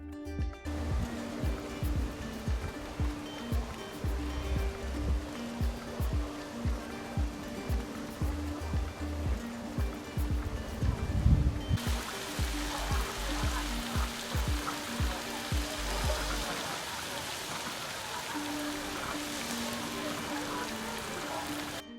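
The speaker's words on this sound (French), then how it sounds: "L'eau de cette source coule sur des formations de pierre en terrasse, ce qui donne un aspect insolite d'escalier géant, occasionnant une succession de cascades plus ou moins hautes" Spring water spilling down terraced limestone formations at a Hungarian spa, a steady broadband rush of falling water with churning low splashes, continuous and fairly close, its texture brightening partway through.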